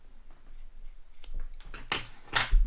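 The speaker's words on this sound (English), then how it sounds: "I'm gonna cut the excess off." Scissors snipping excess cord off a homemade steelhead and salmon stringer, a few close, crisp cuts building to louder snips toward the end, with no one talking.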